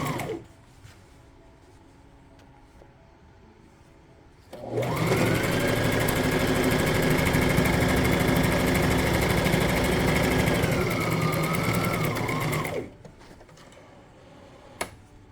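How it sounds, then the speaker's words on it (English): Sewing machine stitching a skirt, one long steady run of motor hum and rapid needle clatter lasting several seconds, loud and close, starting and stopping abruptly between quiet stretches. "Before I do, I'm locking the stitch, then moving forward."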